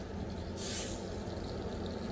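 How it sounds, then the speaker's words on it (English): A short hiss of a spray bottle misting cleaner, one burst near the start over steady low background noise. "And then I'm gonna spray right here as well."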